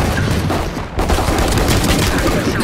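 Gunfire and a grenade blast in a Valorant match on the Breeze map, a loud burst followed by dense crackling shots that stay close and continuous.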